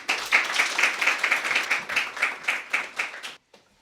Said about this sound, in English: Everyone, please clap for Autumn Pryor.